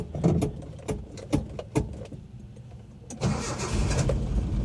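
A carbureted Shelby Cobra 427 cranks with a rapid run of rhythmic starter chugs, pauses briefly, then catches and settles into a rough, loud running rumble close by.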